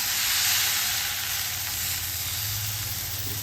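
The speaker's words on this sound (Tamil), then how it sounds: "ஆப்பக்கல் சூடாக இருக்குங்க இப்போது ஆப்பம் ஊற்றிக்கலாங்க" Appam batter poured onto a hot appam pan sizzles continuously, a steady bright hiss with a faint low hum underneath, close and even throughout.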